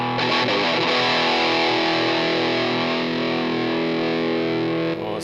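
Heavily distorted electric guitar played through a Marshall JCM 800 amplifier into a Soldano 2x12 cabinet rings out loud and sustained, chords held steadily for several seconds before cutting off near the end.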